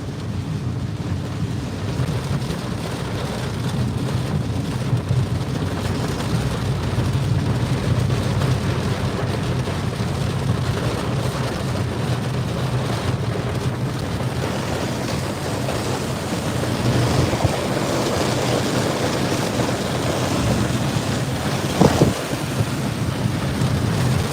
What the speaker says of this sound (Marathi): इथं चाललाय मुसळधार पाऊस भयानक पाऊस आहे